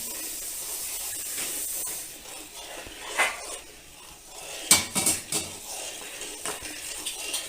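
Roasted medium bansi semolina goes into a pot for a colostrum milk pudding, with a soft pouring hiss at first, then several sharp metallic clinks and scrapes of a utensil against the vessel, heard close up.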